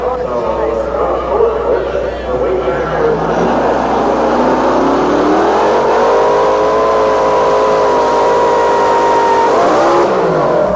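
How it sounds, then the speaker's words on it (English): A tractor-pulling machine, the Virginia Farmer, powered by three 481 Rodeck engines, roars loudly and steadily at a 1986 pulling event, its pitch climbing midway, while an announcer talks over it. "Now, the Virginia Farmer. 3 481 Rodeck engines driven by John Carlton."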